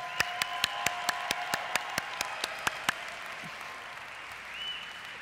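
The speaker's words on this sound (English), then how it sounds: "So let's give him a strong applause." Audience applause at a talk about essential oils, a soft continuous patter of clapping with one nearby person's loud, evenly spaced claps in a steady rhythm for about three seconds before the crowd carries on alone.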